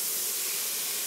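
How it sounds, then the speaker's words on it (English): White wine poured into a hot pan gives off a steady, broad hiss of steam, close and continuous for about a second. "And then you put that white wine."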